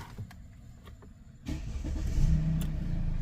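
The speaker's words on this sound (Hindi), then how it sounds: "गाड़ी भी स्टार्ट एक बार करके देखते हैं।" A Mercedes-Benz car engine cranks and catches after a quiet stretch, then settles into a steady, close running idle, recorded in a workshop after a module replacement and coding.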